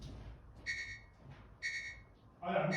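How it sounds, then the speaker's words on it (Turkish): A smart lock's proximity alarm on a bag sounds in short repeated bursts of high beeping, with quiet gaps between bursts and a brief voice at the end. "E, alarmı duyacaksınız"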